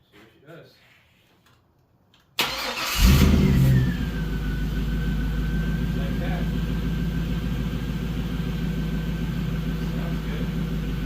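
A 2002 Pontiac Trans Am WS6 V8 cranks and fires up abruptly after a quiet moment with faint talk, roars in a brief rev, then settles into a steady, loud, rumbling idle close by.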